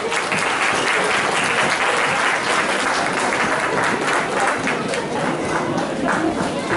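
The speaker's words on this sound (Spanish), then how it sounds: "Recibámoslos con un aplauso." Loud, dense applause from a school audience welcoming first-grade children arriving for a spring guaracha dance performance, sustained and close throughout with faint crowd chatter mixed in.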